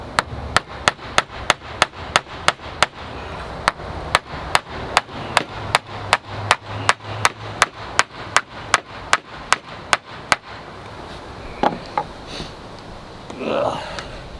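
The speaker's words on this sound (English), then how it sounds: "This is a little awkward hammering this way." Sharp, regular hammer blows strike while solar party lights are being installed, about two dozen evenly spaced close knocks, followed by a few scattered shuffles and faint handling noises.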